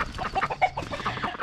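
Chickens clucking steadily near a yard where ducklings are being fed, a busy run of overlapping short clucks at moderate volume with no talk.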